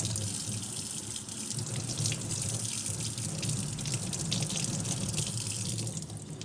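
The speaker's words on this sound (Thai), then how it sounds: "เปิดน้ำใส่นะคะ แล้วก็ใช้ฟองน้ำขัดถูรอบ ๆ ดอก" Tap water runs steadily into a sink as a sponge scrubs a matsutake pine mushroom, a continuous close splashing hiss with no speech.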